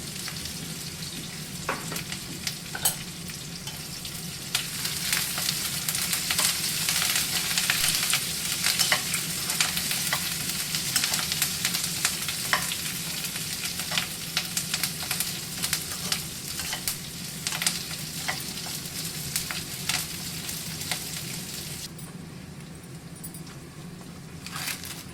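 Green chillies and curry leaves fry in hot oil in a kadhai for makhana chivda, a loud, steady sizzle with crackling bursts and spoon stirring running throughout, no voices.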